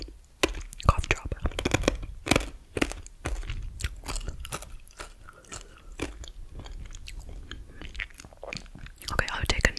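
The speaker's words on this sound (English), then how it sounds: "I am crunching the end of my cough drop" Hard candy cough drop crunched between the teeth close to a microphone, with sharp irregular crunches and chewing sounds, accompanied by quiet whispering.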